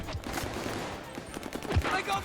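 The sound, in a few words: gunfire in Call of Duty Vanguard video game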